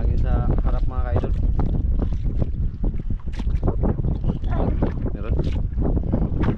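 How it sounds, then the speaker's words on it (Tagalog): Gusty wind buffets the microphone in loud rumbling bursts while a person talks over the roar. "Lakas pa rin yung hangin sa harap mga kaidol."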